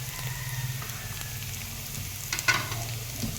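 Chicken curry with Indian beans and a splash of water being stirred in a hot pan, producing a continuous bubbling sizzle with a spoon scraping and a brief clatter midway, close and steady, without any voice.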